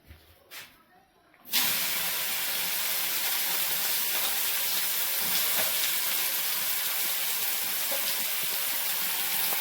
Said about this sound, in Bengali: কড়াই দিয়েছি তেল, আগে ছাতুটা ভাজবো